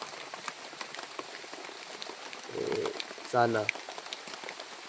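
Steady rain pattering on a surface in wet-season weather, a continuous soft hiss close by, with brief voices speaking over it.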